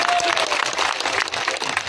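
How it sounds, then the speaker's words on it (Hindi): A rally crowd at Isagarh, Madhya Pradesh, claps for Chief Minister Mohan Yadav at an election gathering, a dense, steady wash of many hands that holds loud and even for two seconds. "ये ईसागढ़ की तालियां नहीं है, मुझे ईसागढ़ की तालियां चाहिए, वहां पीछे तक तालियां बजे।"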